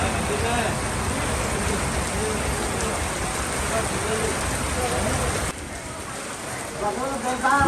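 Heavy thunderstorm rain driven by strong wind pours steadily in a dense, close hiss over surfaces, dipping briefly before swelling again.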